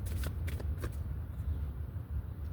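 Rapid riffling bursts of playing cards being shuffled, a few quick flurries close to the mic over a steady low background hum.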